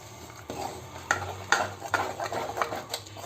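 Scraping and clinking of a spoon stirring crab rasam soup in a pot, with several distinct strokes at a steady pace, fairly close and moderately loud.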